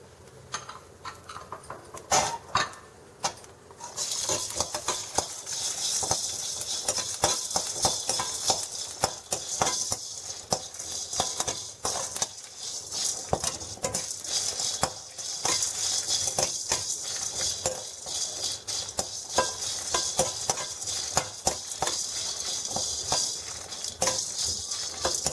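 Spices, dried red chillies, pepper, garlic and curry leaves are stirred and dry roasted in a pan, with repeated scraping clicks and rattling taps of a utensil against metal alongside a faint crackle.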